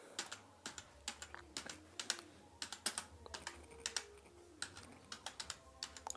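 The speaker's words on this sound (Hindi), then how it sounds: "मैं जो यहाँ पे टाइप कर रहा हूँ वो यहाँ पे टाइप होता जा रहा है" Typing on a keyboard connected to a mobile phone: a steady run of sharp, close key clicks in an irregular rhythm, with no voices.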